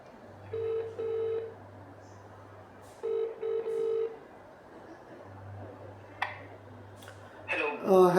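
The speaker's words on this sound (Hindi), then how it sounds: "तो आइए ज़रा फ़ोन मिलाया जाए उनको" A phone call being placed: two rounds of ringback tone sound from a handset, each a pair of steady electronic purrs, over a low constant hum, ending in a brief click and rustle as the line connects.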